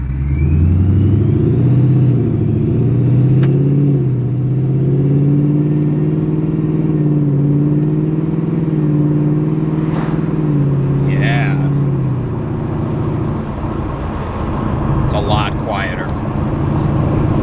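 Supercharged Ford Mustang 5.0 with an MBRP Street catback exhaust idles with a deep, steady rumble, loud and close, with slight rises in pitch as it is blipped, and a voice speaks over it.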